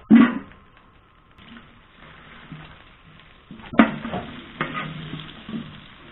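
Olive oil and butter heat in a pan for fish soup, giving a soft, steady sizzle with a few louder clinks and stirring knocks near the start and middle.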